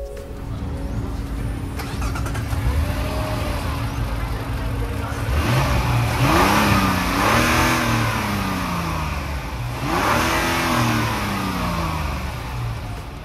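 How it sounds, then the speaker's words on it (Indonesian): A Mazda CX-60 with a 3.3-litre turbocharged inline-six starts up and settles into a smooth idle, then revs twice with rising engine sweeps, close up, while a voice talks over the opening seconds. "So, kita pengen suara mesinnya, put on the brake, yuk kita startup dulu."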